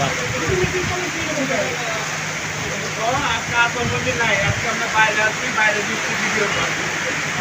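Heavy monsoon downpour in Dhaka, heard from inside a garage as the street floods: a steady, dense hiss of rain with a voice talking over it throughout.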